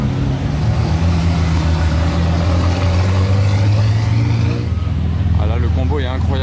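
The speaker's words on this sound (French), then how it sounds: "2 GT2 RS, j'en ai jamais filmé en combo l'une derrière l'autre comme ça." Two Porsche GT2 RS cars, one red and one green, pass one behind the other. Their engines make a loud, close, sustained roar that shifts in pitch near the end, with a voice talking over it.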